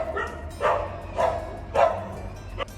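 Dogs bark in a residential neighbourhood, three separate loud barks spaced about a second apart, followed by a shorter fourth bark near the end. No one speaks.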